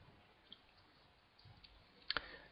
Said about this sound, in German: dann klicke ich hier noch auf Speichern